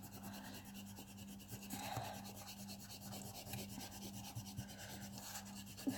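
Pencil marks rubbed out with an eraser on paper, a soft continuous scrubbing that stays faint and close with small irregular surges.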